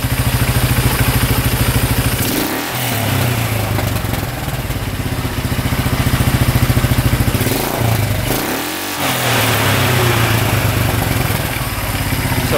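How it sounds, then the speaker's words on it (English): A small ATV engine running with its air box removed, loud and close, with two sharp throttle blips that rise and fall between stretches of fast, rattling high idle. "So it revs out completely with the air box off."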